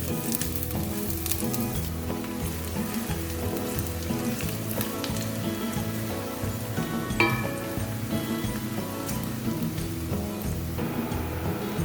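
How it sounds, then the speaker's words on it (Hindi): Finely chopped onions fry in hot oil for a Pakistani-Indian achari chicken base, giving a steady, dense sizzle that continues without break, close up with no speech. "2 अदद प्याज हमने बघार के लिए बारीक काटी है और इसका हम करेंगे गोल्डन सुनहरी होने तक इसको हम फ्राई"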